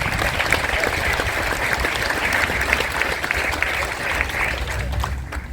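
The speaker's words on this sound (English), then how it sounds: "Please give them a round of applause." A crowd at a Veterans Day celebration applauds Gold Star families with sustained, dense clapping that holds steady for several seconds before beginning to thin out at the very end.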